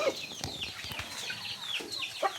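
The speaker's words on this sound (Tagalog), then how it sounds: "mayroon na tayong mga manok na naglilimlim" Native backyard chickens cluck softly nearby, a few short scattered calls and chirps over quiet farmyard background.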